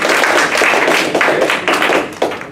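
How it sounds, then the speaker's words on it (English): Seminar attendees give a round of applause at an academic talk, loud, close and continuous clapping with crisp individual claps standing out through the dense patter. "So maybe a round of applause for Maxim."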